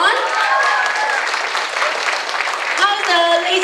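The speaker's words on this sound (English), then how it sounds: "Let's give a round of applause for the lovely fashion that's gonna come on." Audience applause at the Market America awards gala in Toronto, a steady dense wash of clapping with cheering voices and tonal sounds rising through it, carrying evenly for several seconds.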